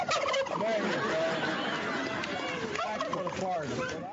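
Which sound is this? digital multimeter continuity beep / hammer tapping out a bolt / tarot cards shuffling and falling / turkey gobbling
turkey gobbling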